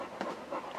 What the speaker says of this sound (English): if you can hear her panting in the background